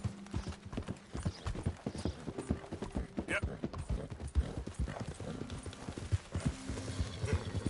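Steady rhythmic clip-clop of horse hooves at a walk in the video game Red Dead Redemption 2, with a brief spoken word partway through.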